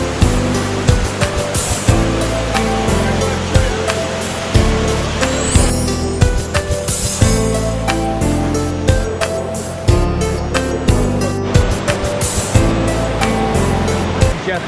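Waterfall in Jamaica pouring steadily, a loud continuous broadband roar of rushing water heard up close with no talk over it.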